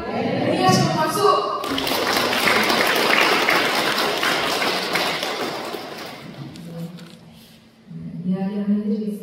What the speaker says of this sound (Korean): 동의하시면 박수!